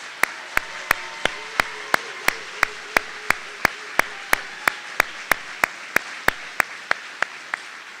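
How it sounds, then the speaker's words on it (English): Steady, evenly spaced claps ring out at a graduation ceremony for the class of 2021, about one sharp clap every third of a second over a quiet room, fairly distant and faint. "Ladies and gentlemen, one more round of applause for our 2021 graduates."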